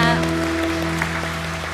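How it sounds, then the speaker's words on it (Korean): Church congregation clapping during a Sunday worship service, a brief burst of applause under sustained organ or keyboard chords with steady held tones. "주님께 영광의 박수를 올려드리겠습니다."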